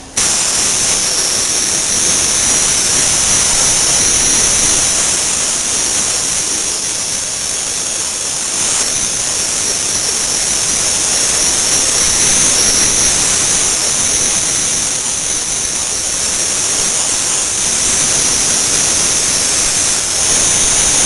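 Abrasive surface prep disc on a power tool grinding rust off a brake rotor, a loud, close, unbroken hissing whir that holds steady for the full stretch without any talking.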